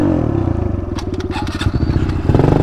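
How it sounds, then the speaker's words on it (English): Engine revving in a crash-focused driving video game, with a throaty, pulsing motor that rises and falls in quick surges, loud and close, with scraping and clattering noises mixed in. "I heard him rev up."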